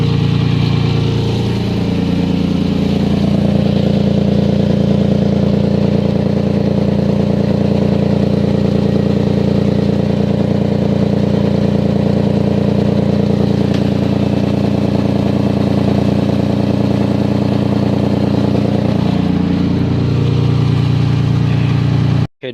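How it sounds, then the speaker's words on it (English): A car engine with an exhaust leak idles steadily on a cold day, a loud, continuous low rumble with a rough, puffing edge that holds unchanged for about twenty seconds before cutting off abruptly. "This is what you call an exhaust leak."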